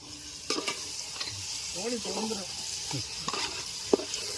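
Broiler chicken sizzles in a hot pan with sautéed onions, with scraping stirring sounds and a few clinks, a soft voice murmuring briefly in the middle.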